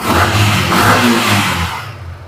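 A motorcycle engine revs inside a showroom, a close, throaty roar that rises and holds before dropping away toward the end, heard alone without talk.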